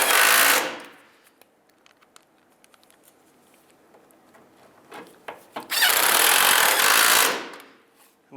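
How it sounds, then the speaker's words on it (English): Power tool driving two bolts into a headlight mounting panel on a 1992-1996 Ford F-150, two loud bursts of whirring rattle at the start and end separated by quiet handling clicks. "we'll put these 2 bolts in first."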